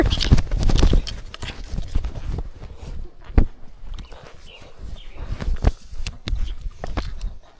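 Horses walk in a steady clip-clop of hooves during a trail ride on a road trip through Utah and Arizona, the hoofbeats close and fairly loud over outdoor rustle.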